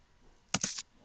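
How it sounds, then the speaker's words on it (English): Three or four quick, close key clicks tapped on a computer keyboard in a quiet room, one short burst with no talk. "So I'm going to just make sure that is typed in"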